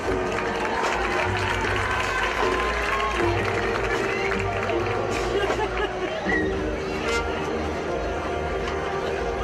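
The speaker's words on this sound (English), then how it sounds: "Let's give our second office a round of applause." Crowd applause and cheering fill the stands at a high school football pregame ceremony, a steady dense wash of clapping and chatter under an announcer's voice.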